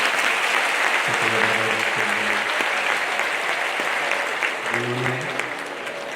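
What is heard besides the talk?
audience applause at a religious discourse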